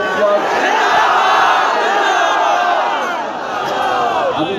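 A large crowd at a religious rally in Larkana, Sindh shouts slogans together in a loud, sustained roar that swells and holds for several seconds, a dense wall of massed voices with no single speaker standing out.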